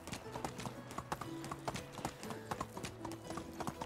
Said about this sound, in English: I have the cutest horse.